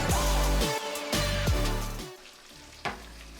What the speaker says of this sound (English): Put the low-carb bechamel sauce in with the onions,